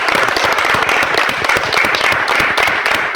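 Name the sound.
applause for Teacher Daniel's TikTok award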